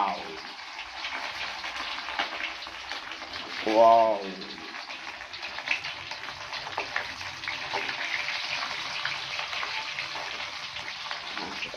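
Pindang fish drops into hot oil and sizzles with a steady, hissing crackle that continues throughout, with a brief exclaimed voice in the middle.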